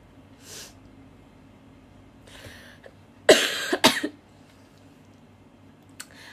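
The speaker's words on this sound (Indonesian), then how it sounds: "Aku lagi batuk" A pair of harsh, explosive coughs burst out close by after a near-silent stretch, followed by a faint click.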